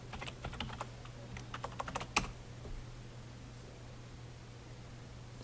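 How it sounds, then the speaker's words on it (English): Someone types a message on a computer keyboard in an office messaging program, a quick burst of close, light key clicks that stops after about two seconds, leaving faint steady room hiss. "So if I type a message to him,"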